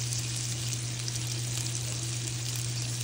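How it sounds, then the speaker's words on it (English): Shrimp frying in a pan with sauce, a dense continuous sizzle under a low steady hum, loud and close, with no talking. "now we're going to give this a toss and continue to cook our shrimp"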